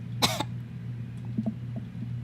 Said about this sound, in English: Someone coughs.